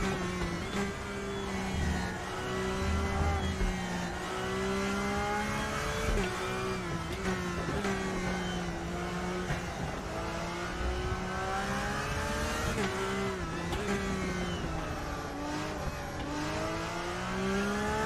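A BMW race car engine from the RaceRoom racing game drones steadily at high revs throughout, its pitch rising and dipping through gear changes, with other engine tones layered underneath and no talking.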